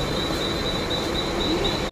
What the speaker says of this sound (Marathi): आता कुर्ल्यावरून आम्ही पनवेल ही ट्रेन पकडत आहोत